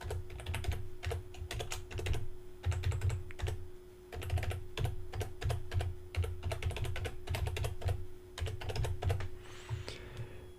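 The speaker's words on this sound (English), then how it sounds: "So I'll come in here, type it in." Typing on a computer keyboard while entering a link in a website builder: steady bursts of close keystrokes with short pauses, continuous throughout, no talking.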